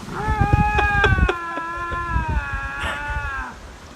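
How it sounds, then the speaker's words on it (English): Lynx calling in Canada: loud, close, drawn-out wavering yowls with rich overtones, one long cry overlapping another, like a harsh bleating cat, running through most of the clip. "if you don't know what lynx are, they're basically like a 40-pound mountain lion"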